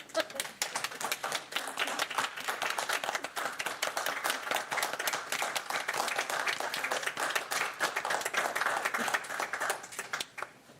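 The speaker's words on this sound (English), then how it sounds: "I feel like I just want to do the big old clap." Applause for a retiring staff member at a city council meeting in Wausau, a dense, steady patter of many hands clapping at moderate distance, holding for about ten seconds before thinning at the end.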